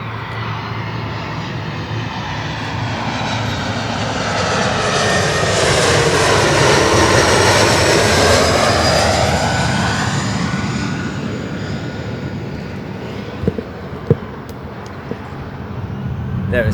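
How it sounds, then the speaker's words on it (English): An airplane passes overhead outdoors, a broad engine roar that swells to a loud peak midway and then fades away, with a few faint clicks near the end. "Oh shoot, there's a plane, look."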